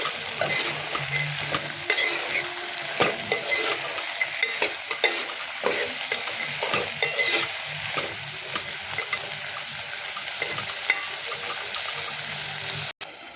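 Ridge gourd and fresh bean curry frying in a pan is stirred, giving a steady close sizzle layered with frequent scraping and clinking strokes, with no talking.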